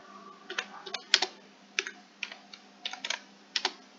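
Typing on a computer keyboard, a line graph description being written: quiet, close keystrokes in irregular bursts and short runs with brief pauses, alone without talk.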